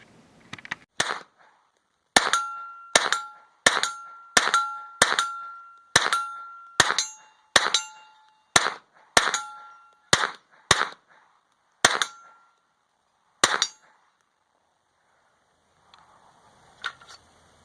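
SIG MPX carbine fitted with an Elf Tactical trigger fires at an outdoor range, with about fourteen sharp, loud single shots at a steady, deliberate pace, each followed by a short ringing decay, then a pause and faint sounds at the end.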